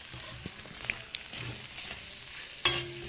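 Ghughni stirred in a pan over low heat, with soft scraping and a quiet sizzle broken by a few light clinks of a spatula and one sharper metallic knock, close and fairly quiet.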